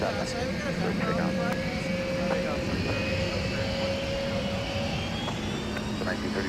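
A distant airliner engine roars steadily on takeoff from runway 17 at a busy airport during holiday travel and deicing operations, with radio talk heard over it.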